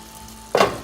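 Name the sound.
handful of gluten-free Barilla spaghetti added to boiling water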